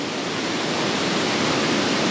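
Minnehaha Falls pours down in the rain with a dense, continuous rushing hiss, steady and fairly loud with no breaks or voices.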